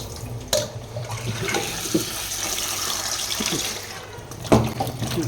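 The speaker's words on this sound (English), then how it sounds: "I'm washing the cubes of colocasia." Cubes of colocasia are washed under running tap water, giving a steady rushing splash with a few louder knocks and splashes. The sound is close and continuous.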